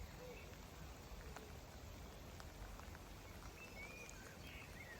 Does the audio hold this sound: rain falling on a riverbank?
yes